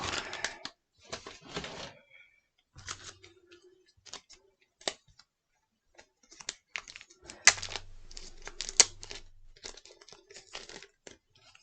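Packing tape and cardboard being ripped off a mailed trading-card package, in short bursts of tearing and crinkling with pauses, close and fairly quiet, with no talking.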